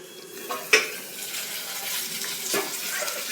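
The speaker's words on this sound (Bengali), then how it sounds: "এখানে মুড়োটা ভাজছে।" A fish head fries in a pan with a steady, moderate sizzle, broken by a sharp metal clink of a utensil early on and a few light scrapes as it is turned.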